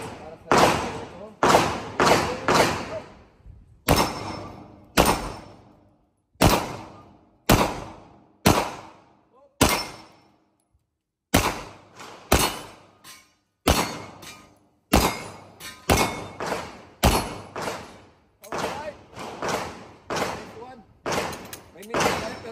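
Glock 17 Gen 5 Austria pistol firing at a range, a series of sharp, loud reports in irregular bursts with short pauses between strings, each shot decaying quickly.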